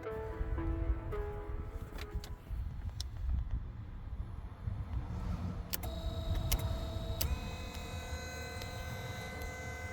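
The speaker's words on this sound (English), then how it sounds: "With the motor performing intermittent, slow and fast operations without blowing the fuse, I can let this motor come back to its park position." A DAF XF truck wiper motor, under test on a circuit that had a short to ground, runs at a low, steady hum with faint mechanical clicks and whines as it cycles and returns to its park position, with no voices.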